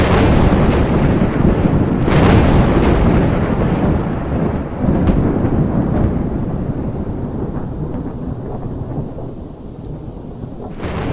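Loud, deep rolling thunder rumbling through a storm with heavy rain hiss, booming strongly early on and slowly fading toward the end.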